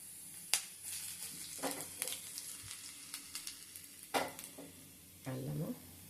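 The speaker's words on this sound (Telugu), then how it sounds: "కరివేపాకు, అల్లం బాగా వేగాలండి" Ginger and curry leaves frying in a pan, a faint sizzle punctuated by scattered sharp stirring clicks and scrapes, with a brief louder rustle near the end, quiet overall and without speech.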